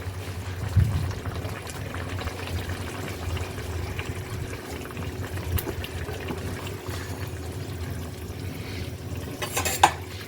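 Coriander leaves stirred into a koi fish and cauliflower curry in a pot, a steady soft scraping and sloshing of liquid running continuously at moderate level, with no voices.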